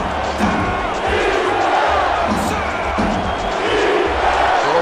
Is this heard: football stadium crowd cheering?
yes